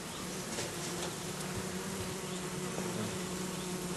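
Honeybees buzz at a beehive, a dense continuous hum of many insects close by, fairly quiet and steady with no voices.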